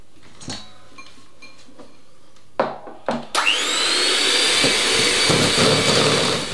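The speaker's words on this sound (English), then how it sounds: "we beat all that in until it's fairly well incorporated" A mixer starts up after a few knocks and whirs steadily and loudly, beating double cream into chocolate chip cookie dough.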